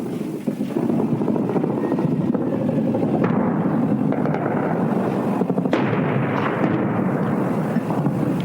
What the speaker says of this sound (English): the Royal Jordanian Army began firing its artillery into the center of Amman.